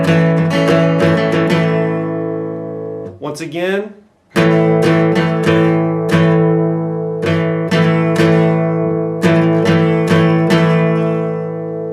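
Guitar strumming a power chord pattern at a slightly quicker pace for the song lesson, with steady repeated chord hits and a brief pause midway where a voice speaks over a sliding tone.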